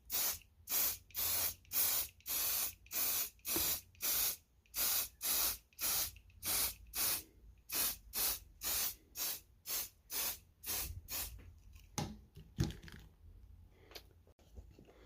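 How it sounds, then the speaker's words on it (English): An aerosol can of silicone lubricant sprays onto taped cardboard in about twenty short, even bursts of hiss, close and loud, then stops, leaving faint handling noises. "take this silicone lubricant and just spray the top of the cardboard"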